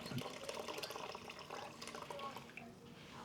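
About two quarts of vinegar are poured into a pot for dill pickles: a brief, close, splashing liquid pour, with someone talking over it.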